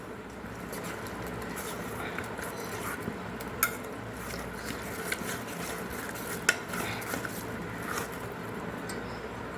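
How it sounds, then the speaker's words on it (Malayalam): Water stirred into a batter for deep frying: soft, continuous stirring and scraping in a bowl with occasional small clicks, close up, while someone talks. "വെള്ളം ഒഴിച്ച് നമ്മൾ ഒന്ന് ഇതിൻ്റെ ബാറ്റർ ഒന്ന് തയ്യാറാക്കുകയാണ്"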